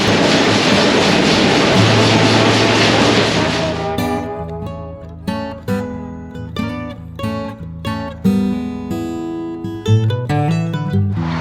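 Restored gold mine production machinery at a Thames, New Zealand heritage site runs loudly: a dense roar for the first few seconds, then rhythmic heavy clanking and pounding strikes repeating close by, with no one talking.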